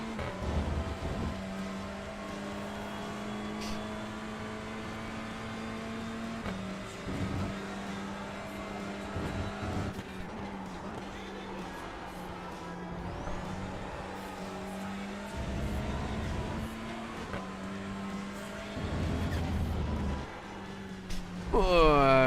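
A touring car engine drones steadily through warm-up laps at Donington National in the iRacing sim, pitch rising and dipping with shifts and corners, a sustained close racing-engine tone throughout.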